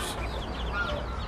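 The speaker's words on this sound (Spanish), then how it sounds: "Eso aquí le dicen gallo kikriki." Chickens and a rooster on a farmyard with geese nearby, soft scattered clucks and calls at a distance over a low steady background, no speech.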